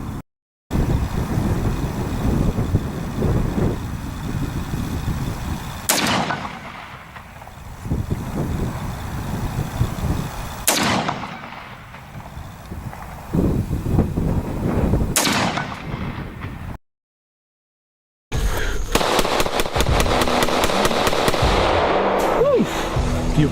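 An FN Five-seven pistol fired in a series of loud, sharp shots, each with a long echoing decay, separated by pauses and a brief silent gap before a final burst of rapid fire.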